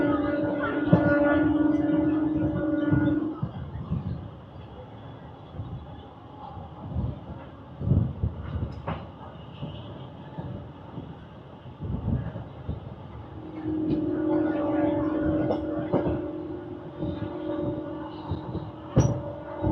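MEMU suburban train pulling out of Arakkonam Junction, heard from on board: a loud tonal horn or motor whine at the start and again later, with rumbling, clanking wheels and rattling carriage noise building between.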